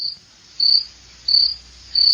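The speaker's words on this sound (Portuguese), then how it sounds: "Você já escutou o som de um grilo?" A cricket chirps in short, shrill bursts, repeating about every two-thirds of a second against a quiet background.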